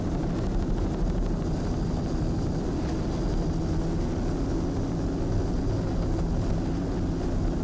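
A helicopter flies over the 2003 Brick Offshore Grand Prix powerboat race at Point Pleasant, New Jersey, giving a steady, loud, unbroken rotor and engine drone.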